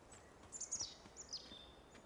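Small birds in the woodland scenery of the video game Life is Strange 2 give a few brief, high, faint chirps in two quick clusters against a quiet outdoor background, no voices.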